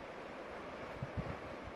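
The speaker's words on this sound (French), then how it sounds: "Et surtout le bruit de l'eau, le vent." Sea water and wind on the Brittany coast in the Côtes d'Armor, a steady broadband wash of surf with a few low thumps, continuous and fairly close, with no voices.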